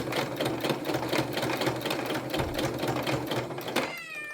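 A domestic sewing machine stitches a tote bag at slow to medium speed, its steady rapid mechanical chatter running continuously before stopping abruptly near the end, with a brief high cat meow overlapping at the close.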